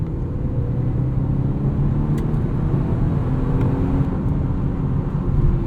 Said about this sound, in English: I'm noticing that it's the car is shifting before redline quite a bit